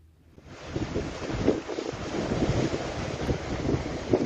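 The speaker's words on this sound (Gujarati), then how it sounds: "પોરબંદરના દરિયામાં જબરજસ્ત કરંટ દેખાઈ રહ્યો છે" Sea at Porbandar churned up by Cyclone Shakti in the Arabian Sea, with wind gusting against the microphone over steady rolling surf, rising from quiet to a sustained rough roar.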